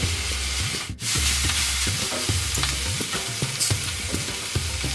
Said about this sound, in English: To the pan we're going to add 1 tablespoon of garlic and ginger paste and give this a good mix through and just cook it out for 1 minute